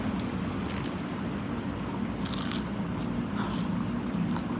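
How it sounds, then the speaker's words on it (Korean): Several crisp crunches and crackles as someone bites into a crispy fish-shaped pastry (bungeoppang), close up, scattered over a quiet background hum. "나 이렇게 바삭한 붕어빵 진짜 오랜만이야."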